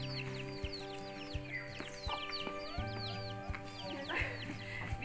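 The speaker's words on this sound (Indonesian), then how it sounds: "Biasanya kalau ayam yang punya anak itu dia suka" Chickens cluck and chirp in a busy flock, a mother hen among them, with overlapping short calls near and far over a steady outdoor background hum.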